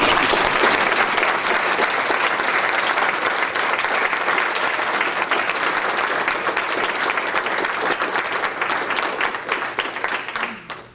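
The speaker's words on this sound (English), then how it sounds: "Another round of applause for that." Sustained audience applause follows a congressman's Law Day address, loud and dense crowd clapping that holds steady before tapering off at the end.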